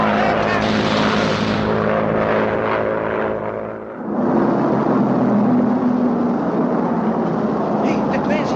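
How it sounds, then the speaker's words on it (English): A propeller airplane drones loudly overhead, its engine noise fading briefly then returning as a broad roar in a 1942 wartime setting. "the plane's here again."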